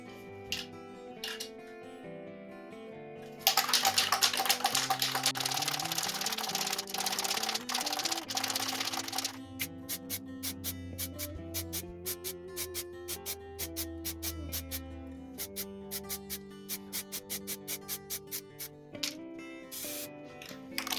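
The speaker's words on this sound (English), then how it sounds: "we'll spray a grey primer on top of that" Aerosol spray of grey primer onto a scooter mudguard hisses steadily for several seconds, then short bursts of spraying and clicking follow, close to the microphone.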